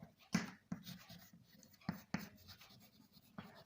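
Pen scratching across paper during a maths lesson, with short bursts of strokes separated by pauses, close and fairly quiet.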